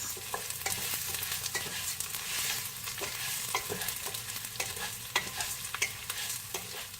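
Rice fries in a pan for Spanish rice, with a steady close sizzle and repeated scraping strokes of a spoon stirring through it, no voices.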